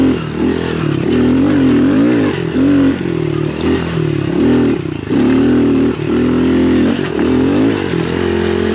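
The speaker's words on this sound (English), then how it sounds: "Yeah, something is rattling." A vehicle drives through soft sand with a loud, close engine that revs and falls in repeated surges, and a rattling clatter runs beneath the engine throughout.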